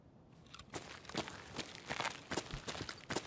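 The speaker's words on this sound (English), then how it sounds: "I heard footsteps much further away." Footsteps in the video game Escape From Tarkov on the Shoreline map, a steady series of soft, crunchy steps at a walking pace over a hissy background, with no talk.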